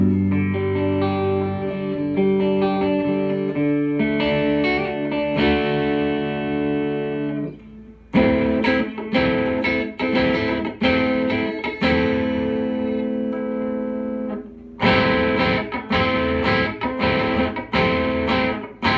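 Clean electric guitar, an LTD H3 1000 on the neck pickup, with a warm, round tone plays sustained chords, then switches to strummed rhythmic chords with brief pauses, loud and close.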